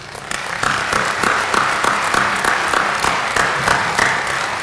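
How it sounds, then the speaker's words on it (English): An audience at a police academy basic-class graduation ceremony gives the academy staff a round of applause, a full, sustained wash of many hands clapping evenly throughout. "let's give the academy staff a round of applause"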